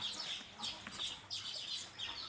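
Desi country chickens cluck in a few short, bright bursts spaced roughly half a second apart. The calls are moderately close and stand alone, with no talk over them.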